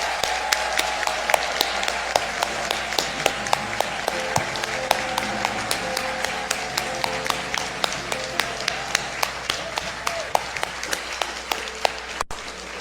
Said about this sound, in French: Donnons à Dieu, et seulement à Dieu seul,